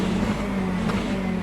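A GT3 race car engine at Monza in the rainy Le Mans Ultimate racing game, a steady loud droning engine tone held close throughout, with no talk over it.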